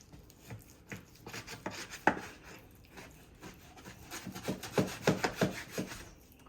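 A knife slices steak repeatedly against a wooden cutting board, with irregular slicing strokes and taps growing busier and louder toward the end.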